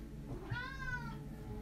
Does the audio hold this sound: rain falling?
no